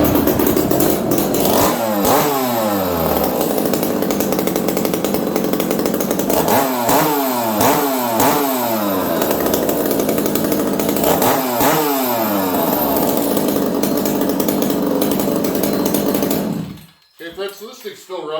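A torn-down chainsaw with a loosened spark plug running up close, a loud buzzing two-stroke drone that rises and falls through repeated revs, then cuts out near the end, with someone speaking over it.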